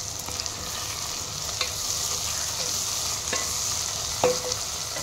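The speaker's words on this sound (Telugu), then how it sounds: "ఒక పాన్లో ఆయిల్ పోసుకొని దానిలో ఉల్లికాడలు వేసి దీన్ని బాగా ఫ్రై చేసుకోవాలి." Spring onions frying in oil in a pan while being stirred, a steady close sizzle with occasional sharp scrapes and taps of the spatula, no voices.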